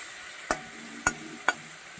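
Shrimp fry quietly in a pan with a soft, steady sizzle, broken by three sharp utensil taps about half a second apart.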